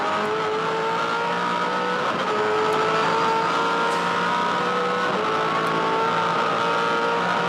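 V8 Supercars racing at Eastern Creek Raceway in 2007 thunder over sawtooth ripple strips, a loud, steady, high-revving engine drone with shifting pitch and a faint rattle as the car belts through the curves, no voices.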